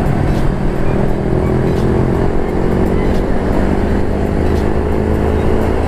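Dense motorcycle traffic on a busy Pantura coastal road, a continuous loud roar of many engines droning and revving as bikes stream past close by, with no clear gaps.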